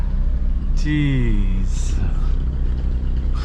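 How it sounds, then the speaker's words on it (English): A Ferrari 458 Pista with straight-pipe exhaust roars past, its note sweeping downward in pitch over a low, constant cabin rumble, while someone briefly exclaims. "That must be like a 458 Italia, but I thought Ferraris can't be straight pipe like that."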